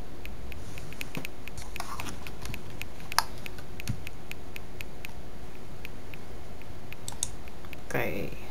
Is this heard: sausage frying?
no